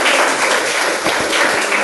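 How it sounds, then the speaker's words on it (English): A room of attendees at an engineering session gives a round of applause, dense continuous clapping that stays fairly loud and even throughout with no speech on top. "Let's give another big round of applause for our"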